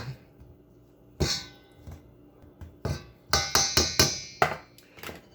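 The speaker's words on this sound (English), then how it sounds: "Now, you can grate that butter in if you like. I'm going to chop mine in." Cold butter is chopped into sour cream garlic and chive biscuit dough in a bowl, with a series of sharp, close knocks. They start sparse and irregular, then come as a quicker cluster of five or six hits.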